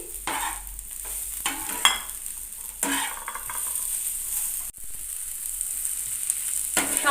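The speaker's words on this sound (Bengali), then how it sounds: "খুন্তি দিয়ে ভালো করে নাড়াচাড়া করে নিচ্ছি" A spatula scrapes and stirs through sizzling gima shak greens in a hot pan, with steady frying hiss and occasional clatter against the metal.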